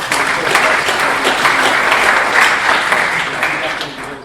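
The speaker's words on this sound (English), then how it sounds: "He definitely deserves a round of applause." Audience applause fills the room after a speaker's tribute at an evening talk, a steady dense wash of many hands clapping, loud and close, easing slightly toward the end.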